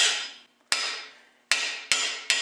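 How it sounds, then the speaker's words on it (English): Four sharp metallic hammer taps on a freeze plug being installed, each ringing out briefly, spaced irregularly with a short pause after the first. "I take my hammer and I'll tap"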